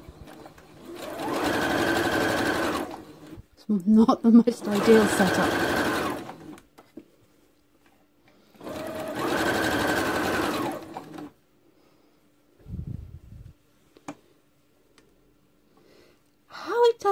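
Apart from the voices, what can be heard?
sewing machine stitching fabric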